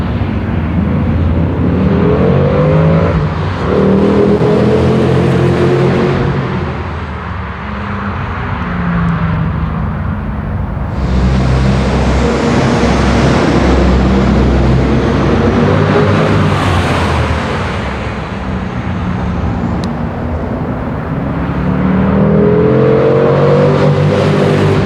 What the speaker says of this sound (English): you can see what it sounds like when it's got full beans, wide open throttle, up higher in the RPMs for short little bursts